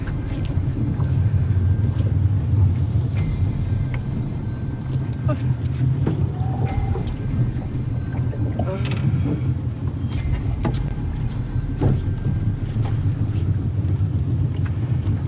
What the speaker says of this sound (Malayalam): ബോട്ട് ഫ്രണ്ടിലോട്ട് എടുത്തിട്ടുണ്ട്